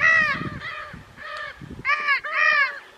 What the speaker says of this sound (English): here lives the indigo macaw, also called Lear's macaw